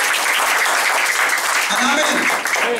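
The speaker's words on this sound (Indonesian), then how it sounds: "Tepuk tangan bagi Yesus." Clapping from a church congregation applauding for Jesus, dense and steady throughout, with voices mixed in.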